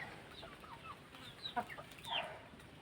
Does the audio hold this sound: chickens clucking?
yes